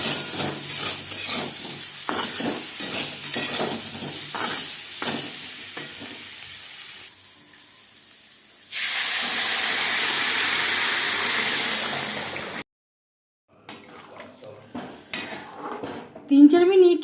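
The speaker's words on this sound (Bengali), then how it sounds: "লবণ হলুদ দিয়ে আলু হালকা করে ভেজে নেব।" Potatoes frying lightly in a pan with salt and turmeric for homemade mutton biryani, with clinking utensils and stirring, then a long steady sizzle, a pause, and more scraping and clatter.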